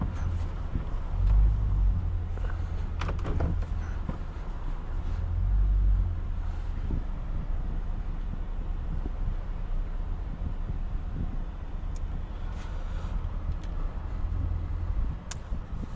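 A 2023 Land Rover Defender 90 V8 Carpathian Edition reverses and parks, its engine a steady low rumble with gentle swells, heard from inside the cabin along with wind buffeting and an occasional click.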